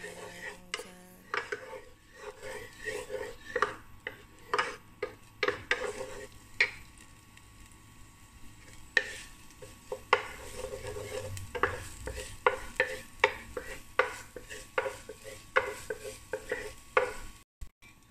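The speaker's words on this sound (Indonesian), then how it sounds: "kalau udah dioseng sampai wangi" Vegetables being stir-fried in a pan: a steady run of scraping, clattering strokes over a low background sizzle, close and fairly loud, continuing for a long stretch without talk.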